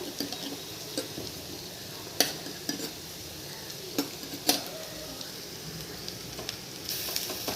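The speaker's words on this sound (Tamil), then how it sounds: "இஞ்சி பூண்டு விழுது போட்டு கிண்டிப்போம்" Ginger garlic paste stirred and frying in a pan while a prawn and spinach gravy is made, with a steady low sizzle and several sharp scrapes and clinks of the spoon against the pan, close and without talk.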